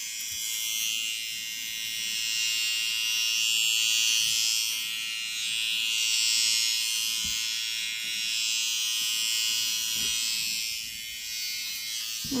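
Finishing Touch Flawless Nu electric razor shaving arm hair gives off a steady, close, high-pitched whirring buzz that holds without pause, with a few soft low knocks underneath.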